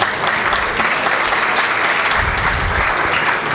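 Steady, full applause from an audience at a regional chamber of commerce fall forum, dense clapping at an even level with no voices over it.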